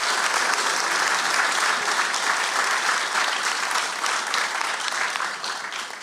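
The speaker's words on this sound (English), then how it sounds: "give our candidates another round of applause" A hall audience at the Key Biscayne mayoral debate applauds the candidates, a thick, sustained wash of clapping that holds steady for several seconds and eases slightly near the end, with no voices over it.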